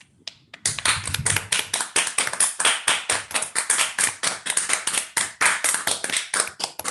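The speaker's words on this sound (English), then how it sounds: "Should we on 3, 2, 1 unmute ourselves and clap?" Several online participants clapping into their microphones at the close of an academic talk, beginning after a short pause and continuing as sharp, fairly close claps in an uneven rhythm, with no speech.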